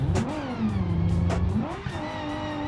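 A car engine revs in a Pikes Peak hill-climb racing video game, its pitch climbing, easing and climbing again through gear changes, loud and close with no voices.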